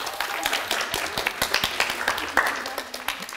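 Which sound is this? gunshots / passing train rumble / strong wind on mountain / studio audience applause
studio audience applause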